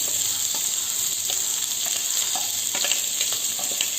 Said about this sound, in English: Fry the onions nicely.